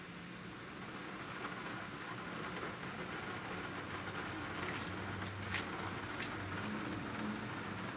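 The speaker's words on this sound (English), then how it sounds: "if it's possible, it's raining even harder." Steady heavy rain pouring down and drumming on surfaces during a severe weather event in St Louis County, Missouri, a constant dense hiss with no one talking.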